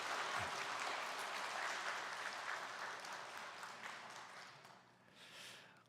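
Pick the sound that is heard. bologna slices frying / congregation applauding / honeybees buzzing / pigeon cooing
congregation applauding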